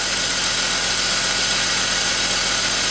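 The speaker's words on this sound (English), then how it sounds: "this engine runs like brand new and absolutely spot on. No misfires, accelerates good, runs good" A BMW X5 engine idles, with a steady, even, continuous hum heard close and alone.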